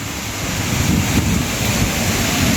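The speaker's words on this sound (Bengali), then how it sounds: "অসাধারণ এক ঝর্ণা।" A waterfall in Arunachal Pradesh rushes in a steady, dense roar of falling water, loud and unbroken throughout.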